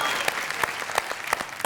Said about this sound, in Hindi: ताली बजा रहे हैं साहित्यकार वाहित्यकार कवि ववि शायर वायर साहब